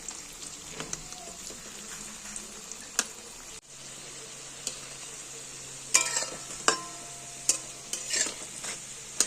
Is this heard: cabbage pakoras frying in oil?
yes